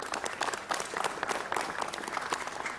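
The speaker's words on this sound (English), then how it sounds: "Let's give him a round of applause." Audience members at a Los Angeles City Council meeting clap steadily in a dense, sustained round of applause, fairly near and even throughout.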